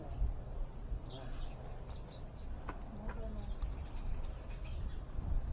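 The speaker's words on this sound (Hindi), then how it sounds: "चिड़िया है" Small birds chirp faintly and sporadically around a cow shelter where construction work is under way, their brief high calls scattered over steady outdoor rumble and noise.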